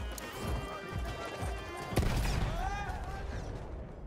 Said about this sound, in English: my horse didn't want to walk faster